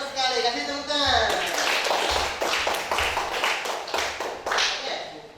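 Students in a classroom clap for a classmate's answer during a teaching assessment, a burst of scattered and then fuller hand clapping that follows a voice and runs on close by, with some talking over it.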